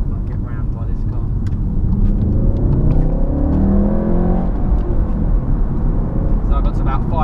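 A manual Mk7 VW Golf R accelerates hard in second gear to about 5,500 rpm, the engine note steadily climbing in pitch over a loud, continuous road rumble heard from inside the car.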